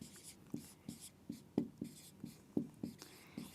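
A pen scratches across paper in short, regular strokes, roughly two per second, close and quiet, with a faint whispery texture and no talking.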